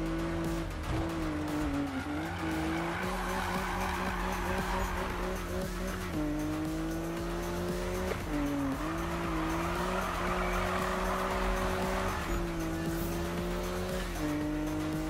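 A Need for Speed car drifts in a PlayStation 4 racing game, its engine droning steadily with rising and falling pitch and tires squealing continuously through the slide, loud and sustained throughout.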